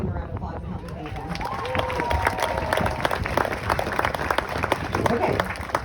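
A round of applause from the crowd at a fundraiser walk for spinal muscular atrophy, sustained clapping mixed with murmuring voices and some cheering, growing a little fuller midway.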